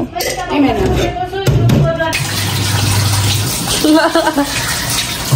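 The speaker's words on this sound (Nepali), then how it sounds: "धोएर हालेपछि केही हुन्न कि धोएर हालौँ नि" Potatoes washed under running tap water, a steady gushing flow with a sink-filling character, while people talk over it throughout.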